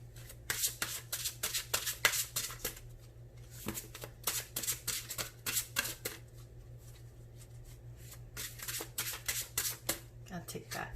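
Tarot cards riffled and shuffled by hand in quick bursts of crisp flapping, pausing and restarting several times, close up, with a steady low hum beneath.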